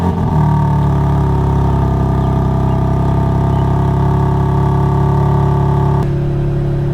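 A BMW M4 engine fires up at a racetrack and settles into a loud, steady idle for several seconds before it shuts off abruptly near the end.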